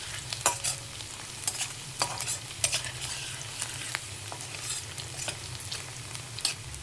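Garlic fries until brown in a pan for broccoli mushroom fried rice, giving a continuous close sizzle with a low hum beneath and irregular clinks and scrapes of a spatula stirring.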